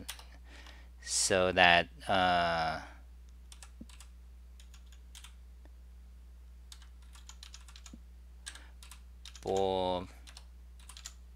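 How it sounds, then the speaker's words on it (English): Keys clack on a computer keyboard in short, quiet bursts of scattered keystrokes, with someone speaking briefly in between. "let me type the name of that tea here"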